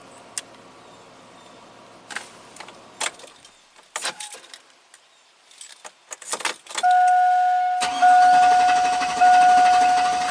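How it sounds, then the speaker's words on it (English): Keys jangle and click near a GM Chevy V8. The engine then cranks without starting, a steady, loud, continuous churn under a constant high warning tone. "Cranks all day long."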